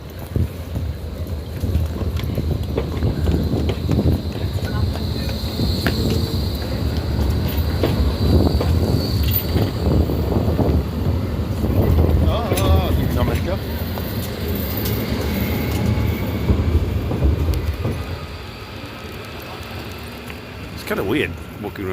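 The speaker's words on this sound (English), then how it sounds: "That tram is going to Moscow." A tram rumbles and clatters along a city street for a long stretch, with wheel squeals and rattles, close by and fairly loud, easing off near the end.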